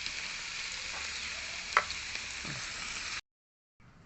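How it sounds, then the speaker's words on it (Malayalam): Paneer fries lightly in a pan with a steady, close hiss of sizzling oil, broken by a brief stirring clink before the sound cuts out and then resumes faintly. "ചെറിയ രീതിയിൽ മൂപ്പിച്ചെടുക്കാം."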